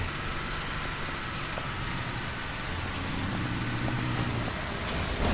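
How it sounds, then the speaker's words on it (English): Steady rain in the video game Surroundead patters and hisses in a dense, even wash of noise, moderately loud with no voices. "And now it's raining."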